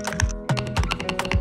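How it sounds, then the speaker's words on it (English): Brisk typing on a custom mechanical keyboard with black and white keycaps, fast uneven keystrokes clacking close up with deep thocky bottom-outs, alone with no voices. "Do you want to build a keyboard that sounds good?"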